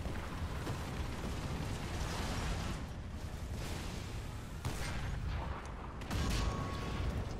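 Tank cannon fire and explosions in the War Thunder video game, a continuous dense rumble of booms and blasts with sharper bursts around the middle and a heavier thump near the end.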